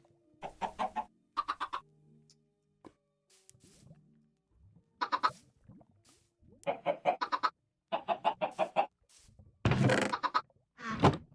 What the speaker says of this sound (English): Got a little chicken guy farm going on.